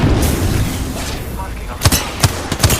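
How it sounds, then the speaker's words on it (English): Gunfire in the video game Apex Legends hits the player: a dense roar of close shots and booms, then several sharp separate cracks, all with a voice talking over it. "Fired at me. Hey, I'm getting shot."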